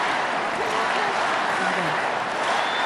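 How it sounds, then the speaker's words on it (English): A large crowd at the Democratic National Convention roars and chants continuously, a dense, loud wash of many voices that fills the hall without a break. "We also heard people chanting."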